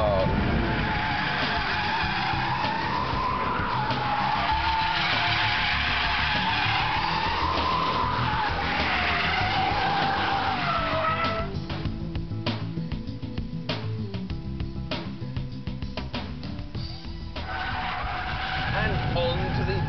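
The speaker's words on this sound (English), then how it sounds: "Great power, great handling, and four-wheel power slides." A Mitsubishi EVO 6 rally-style car power-slides on all four wheels, its tires skidding and engine roaring loud and close almost without pause, with a burst of rapid crackling mid-slide.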